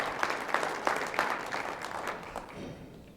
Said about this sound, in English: Can we at least get a hand of applause from you folks?